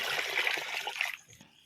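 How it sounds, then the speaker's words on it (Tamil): Water pours and trickles into a masala mixture for a large batch of mutton gravy cooked for a wedding feast, a steady splashing stream for about a second before it tapers off. "மசாலையை தண்ணி ஊற்றி நல்லா கலக்கிடலாம்."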